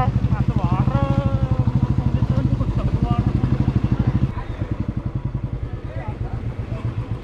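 Motorcycles ride along toward a temple, their engines putting out a fast, regular pulsing drone close to the microphone while people talk over the engine noise.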